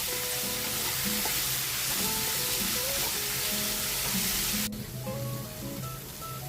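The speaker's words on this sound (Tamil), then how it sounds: "நல்லா தக்காளி இந்த தோல்லாம் பிஞ்சு வரும் அது வரைக்கும் வேகட்டும்" Loud, continuous sizzling of tomatoes frying in a pan until their skins split, with occasional stirring scrapes; the hiss drops somewhat partway through.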